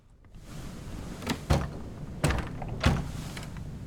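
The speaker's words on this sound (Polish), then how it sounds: "Drzwi są zamknięte." Several dull thunks and rattles of a locked door being tried in the game Return of the Obra Dinn, three or four knocks spaced over a few seconds against a low ambient hum.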